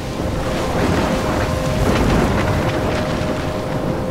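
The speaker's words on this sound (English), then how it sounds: "trapped in a storm?" Stormy weather in the Life Is Strange video game, a steady roar of wind and rain with rumbling thunder rolling throughout, loud and continuous with no speech.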